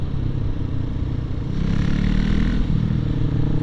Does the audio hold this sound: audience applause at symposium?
no